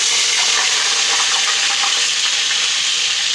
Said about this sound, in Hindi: ये हमने जो बचा हुआ तेल था गर्म था, इसमें हम लहसुन अदरक का पेस्ट डालेंगे